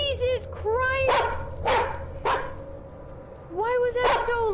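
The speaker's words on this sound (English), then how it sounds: "that dog was so loud" A dog in a video game karaoke scene barks loudly and suddenly in a few sharp bursts over ambient game sound, with several people talking and reacting nearby.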